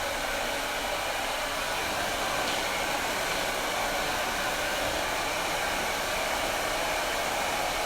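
A hair dryer blows steadily and loudly close by as hair is dried for a textured bob, with a constant airy roar and no voices.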